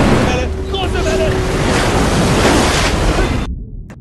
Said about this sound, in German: Große Welle! Große Welle!